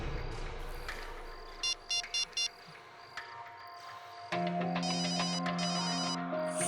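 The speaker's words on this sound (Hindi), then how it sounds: "फोन यहाँ आसपास ही बज रहा है।" Mobile phone ringtone chiming nearby in short repeated electronic bursts, first fainter, then louder and continuous with a held melodic tone.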